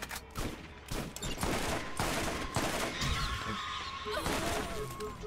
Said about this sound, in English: I got an assault rifle and a shotgun. I'm gonna use them.